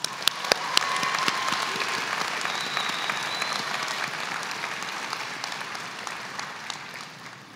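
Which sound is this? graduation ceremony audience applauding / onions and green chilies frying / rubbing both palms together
graduation ceremony audience applauding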